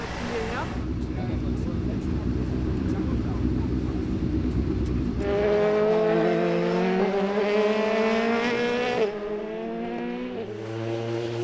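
Formula race car driving on a wet track in the rain, a loud engine roar with spray hiss shifting into high revving pitch climbs through the gears, changing abruptly near the end.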